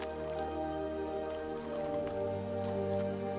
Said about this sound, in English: this unexpected rainfall is a rare opportunity to quench their thirst